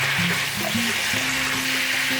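Stir-fried beef and shrimp are mixed into a boiling sauce in a pan, bringing a brief, steady bubbling sizzle with soft stirring scrapes.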